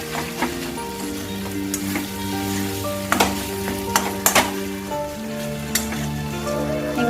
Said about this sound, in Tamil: மசாலாவோட இட்லியை நல்லா மிக்ஸ் பண்ணிக்கோங்க.